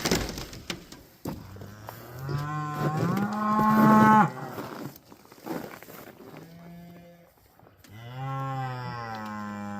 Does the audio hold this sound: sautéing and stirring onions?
no